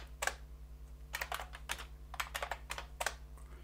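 Typing on a computer keyboard, bursts of quick close key clicks in irregular clusters with short pauses between them, alone over a low steady electrical hum.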